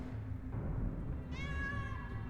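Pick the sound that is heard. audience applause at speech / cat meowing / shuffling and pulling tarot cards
cat meowing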